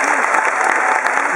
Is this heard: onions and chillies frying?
no